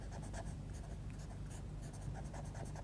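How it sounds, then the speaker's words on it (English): Small paper blending stump rubbed over pigment on drawing paper, a steady soft scratchy swishing in repeated short strokes, close and continuous with a low hum underneath. "So what I'm going to use then is the smaller paper stump"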